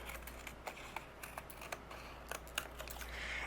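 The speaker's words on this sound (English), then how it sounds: "I'm going to use my scissors and trim away anything that's overhanging." Quiet, crisp snips of scissors trimming overhanging paper during cardmaking, a dozen or so short clicks in an uneven rhythm, close by with no talking.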